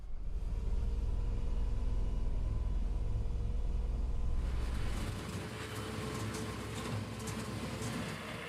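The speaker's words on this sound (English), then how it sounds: "To be honest, the diesel engine is quite noisy." Rear-mounted diesel engine of an Ikarus 55 Lux bus rumbles steadily and loudly while driving, a heavy low drone with broadband road and cabin noise, easing slightly in the low end partway through.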